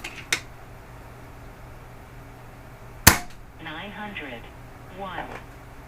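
An Umarex Zelos .22 caliber air rifle fires a pellet with one sharp, close crack, followed by a fainter click earlier and some speech-like sound afterward.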